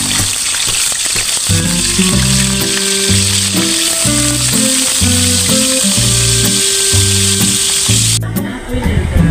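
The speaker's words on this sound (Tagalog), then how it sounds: "piprito na ako ng salmon nila" Salmon belly frying in hot oil gives off a loud, steady sizzle throughout, with a melodic music track playing over it and cutting out near the end.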